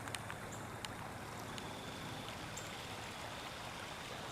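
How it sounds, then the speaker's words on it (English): A steady, even rush of water flows near a small pond in a park at night. The wash is faint and continuous, with a few small ticks and clicks and no one speaking. "There's water over there"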